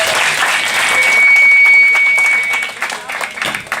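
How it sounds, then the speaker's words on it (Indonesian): An audience claps for Ustaz Yusuf after a lecture, a dense burst of applause that swells and then thins into scattered claps, with some voices mixed in. "kita berikan aplaus buat Ustaz Yusuf"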